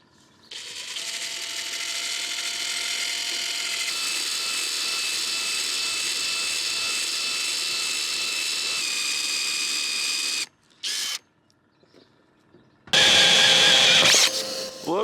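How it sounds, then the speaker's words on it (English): On a catamaran, a drill runs in a long continuous whir from above for about ten seconds, then stops. A short burst follows, then a louder, harsher stretch near the end. "I'm going to drill from up here."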